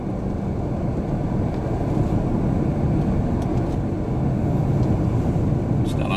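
A Nissan March on the road, heard from inside: a steady, even rumble of engine and road noise that runs for several seconds without a break.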